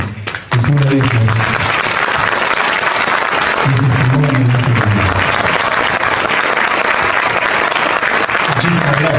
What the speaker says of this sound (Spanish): a quien pido un fuertísimo aplauso